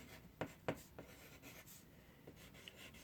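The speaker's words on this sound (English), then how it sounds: "I'm going to write big" Handwriting a label for a big maple leaf during leaf identification, a few quiet close scratchy pen strokes with soft rubbing between, faint and without speech.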